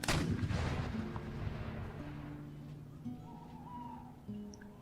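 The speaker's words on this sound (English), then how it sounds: "There's quite a few that's died right here where the all the cannon shots are landing." Cannon fire in the video game Empire: Total War, a loud booming artillery blast with a long rolling decay, followed by faint distant battlefield sounds and a softer later thud, no talking.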